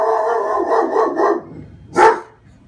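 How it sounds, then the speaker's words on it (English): A dog barks and howls in a string of drawn-out, close calls, then fades before one sharper, loud bark near the end, with no one speaking. "apparently so is my dog"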